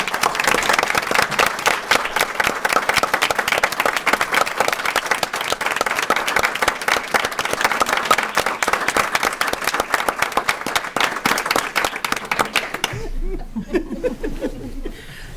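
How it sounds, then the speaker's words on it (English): An audience at a school board meeting breaks into sustained, dense applause, loud and close for about thirteen seconds before it abruptly stops, followed by brief faint murmuring. "I'd like to give her a huge round of applause for her."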